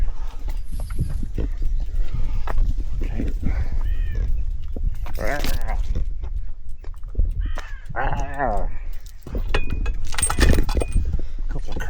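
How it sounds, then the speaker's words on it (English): Crows caw back and forth overhead outdoors on a hot day in the British countryside, a few scattered calls heard under someone talking nearby with wind and movement noise. "Couple of crows up there having a bit of a talk."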